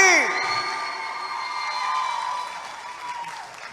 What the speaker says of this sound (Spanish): Un aplauso más fuerte.